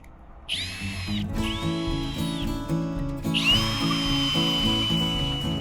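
A power drill drives screws into cedar boards to assemble a raised garden bed kit. There are two close, loud whining bursts of the motor and then a longer third run, with knocking and handling noise beneath them.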